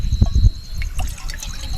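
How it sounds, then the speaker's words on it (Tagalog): Water poured into a pot for boiling at a solo roadside motocamping spot near Itogon, Benguet, a short close trickle and splash in two quick bursts, then a softer dribble with light wind. "Magpapakulo nga tayo ng tubig ngayon"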